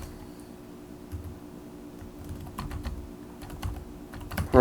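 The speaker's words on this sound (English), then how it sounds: "Once you get all the text typed in" Fast computer keyboard typing while text goes into shapes of a Word document, a steady run of light key clicks at close range with a few louder taps near the end.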